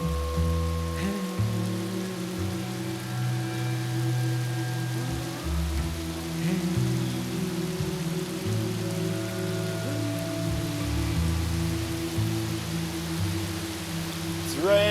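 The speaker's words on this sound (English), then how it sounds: "It's raining." Steady rain falls in Jamaica, a continuous hiss of drops on surfaces with low rumbling undertones and scattered nearby drips, filling the whole stretch without pause.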